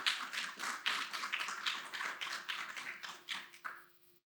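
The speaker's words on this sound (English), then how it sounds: "Please give yourselves a round of applause, and those in the room are welcome to join." Graduates at a pledge ceremony give a round of applause, a quick run of close, light claps that holds steady for several seconds before cutting off.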